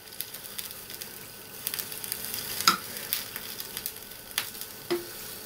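Pasta and sauce frying in a pan for a pasta bake, a steady soft sizzle with occasional stirring clinks and scrapes, close and moderately quiet, no talk.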